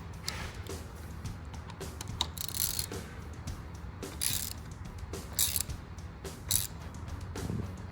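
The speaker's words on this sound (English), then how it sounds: "Put your wrench on." A wrench tightens a spark plug on a 2005 Mercury 90 HP four-stroke outboard, giving steady close ratchet clicking with periodic louder snaps at each swing, fairly quiet.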